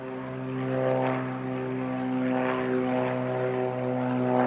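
A propeller airplane passes overhead with a steady, buzzing, harmonic engine drone that swells slightly and stays fairly loud throughout, with no voices.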